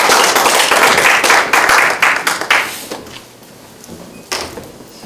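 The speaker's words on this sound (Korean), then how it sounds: "신성현 부회장님을 힘찬 박수로 환영해 주시기 바랍니다." An audience at a community lecture applauds to welcome a vice-chairwoman to the stage; brisk clapping fills the first few seconds, then fades to a quiet room with one last clap.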